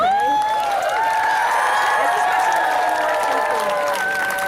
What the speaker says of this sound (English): So let's cheer them on, okay?